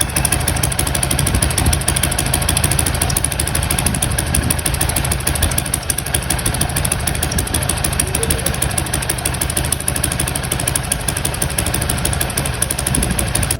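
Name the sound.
motorcycle engine idling with tappet noise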